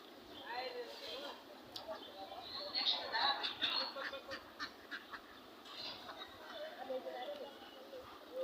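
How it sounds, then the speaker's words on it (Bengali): Many ducks gathered in front of a house quack in repeated nasal calls, some overlapping, at moderate distance over a quiet outdoor background, with people talking faintly among them. "একটা বাসার সামনে দেখুন অনেক হাঁস"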